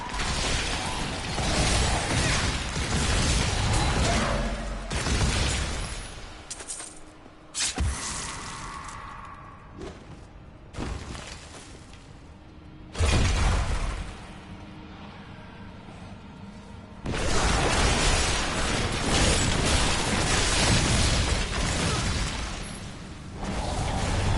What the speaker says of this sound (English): I think the corpse explosion is kind of harming me too.